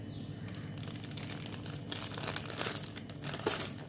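A plastic zip-lock bag crinkles and rustles softly and fairly close as it is handled and filled with batter for piping, with no talk over it.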